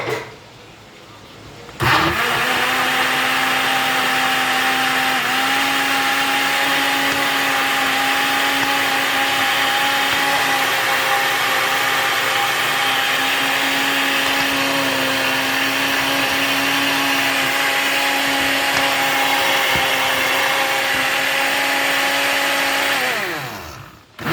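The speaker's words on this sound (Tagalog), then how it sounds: "Atong i-blender." A blender whirs loudly and steadily for about twenty seconds, a high motor whine that starts abruptly and winds down at the end.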